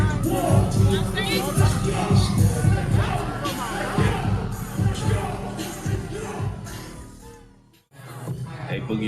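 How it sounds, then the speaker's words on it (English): A packed crowd at a rap show in the Gothic Theater, a dense roar of cheering and shouting voices mixed with loud music, dropping out briefly before surging back. "Packed out front to back. The crowd was going crazy."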